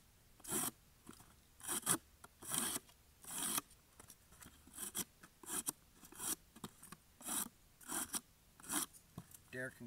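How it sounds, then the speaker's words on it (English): Knife blade slicing through cardboard in a blade-testing session, a series of crisp rasping cuts in short irregular strokes, close and fairly quiet, with someone speaking between cuts. "So we'll just cut up a little cardboard."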